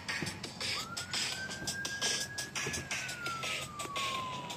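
A police car siren wails far off in one long rising and falling sweep, faint under steady outdoor noise and wind near water while paddle boating.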